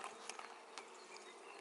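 Honey bees crowd a comb in an opened hive, a dense, steady buzzing hum heard up close with faint clicks and rustles of the insects moving.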